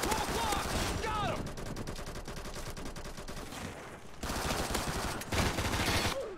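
Gunfire in a Roblox first-person shooter game, dense rapid automatic bursts that rattle on continuously with brief pauses between volleys, moderately loud, with a voice talking over parts of it.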